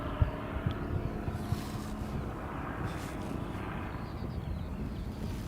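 A privately owned twin-engine Piper Seneca drones at a distance, a low, steady engine hum blended with wind noise and a few faint knocks.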